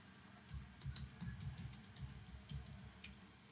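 Rapid typing on a computer keyboard, with quick irregular clicks and clustered keystrokes close by over a low background hum, no talking.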